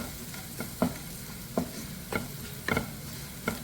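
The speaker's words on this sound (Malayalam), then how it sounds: "ഇത്രപ്പുറം മഞ്ഞൾപ്പൊടി നമുക്ക് ഇതിലിട്ടിട്ട് ഒന്ന് വഴറ്റി കൊടുക്കാം." Grated carrot and beetroot sautéed with turmeric powder in a Kannur-style pan stir-fry, a low sizzle punctuated by regular spatula scrapes and taps about every half second.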